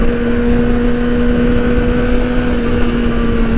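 A 2008 Yamaha R6 sport motorcycle engine holds a loud, steady high-revving drone with a strong buzzing tone, close up and without pause, with no talking.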